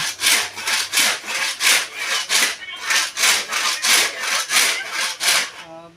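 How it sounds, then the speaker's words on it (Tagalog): A handsaw rasps through firewood in steady back-and-forth strokes, a brisk regular rhythm that continues throughout, close and loud. "At nagpapatid po ako ng panggatong"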